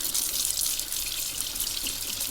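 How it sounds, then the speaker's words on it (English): Steady tap water rushes over brass and steel parts from a 1930s Sears Junior lantern being rinsed after a citric acid bath, a continuous close hiss of running water with no speech. "I'm just going to rinse everything down and give it a scrub with some steel wool"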